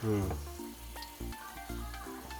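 Chillies frying in oil are stirred in a pan, giving a soft, steady sizzle with a few light utensil scrapes. It is quiet and close, over faint sustained background tones.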